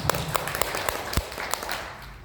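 A small group clapping, scattered claps that thin out and fade after a couple of seconds.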